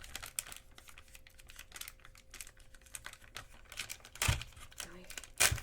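Thin plastic zip-lock bag for biscuit modelling clay handled up close, crinkling and rustling in scattered bursts with a couple of sharper crackles, between stretches of talk.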